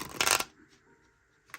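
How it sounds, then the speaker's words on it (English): Tarot cards are shuffled in one short, crisp riffling burst, followed by quiet and then a faint second flick of the cards. "One more shuffle."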